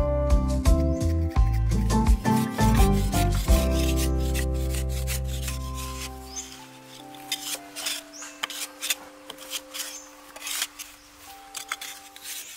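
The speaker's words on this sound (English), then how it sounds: "edges are smoothed and hollow sections are carved with hand tools to create a more aesthetically pleasing look." Hand tools rasp and scrape along the edges of a wood-burning cooking stove as hollows are carved, in dense rhythmic strokes that thin into sparser, fainter scraping with occasional light knocks.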